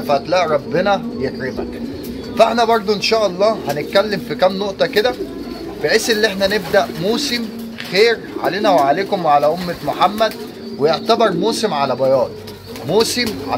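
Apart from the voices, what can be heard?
pigeons cooing inside a pigeon loft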